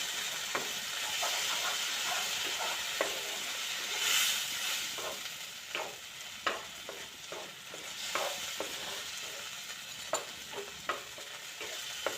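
Food fries in a pan under a steady hiss while a utensil stirs and scrapes repeatedly, the scraping clicks growing more frequent toward the end; no voices.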